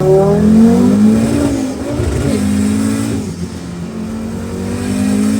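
A car engine revs up and down with a throaty exhaust rumble, loud and close, pitch rising and falling across several pulls.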